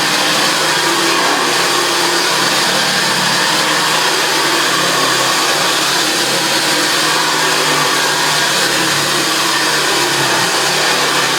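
A refurbished JaxVax Senior vacuum cleaner runs steadily and loudly on carpet, its broadband motor-and-airflow roar holding constant throughout with no talk.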